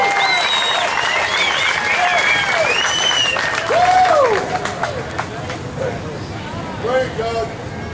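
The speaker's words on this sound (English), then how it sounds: "Keep clapping." Crowd applause and cheering at an outdoor marijuana march rally in Dallas, a dense wash of clapping with whoops and babbling voices, swelling midway then tapering off.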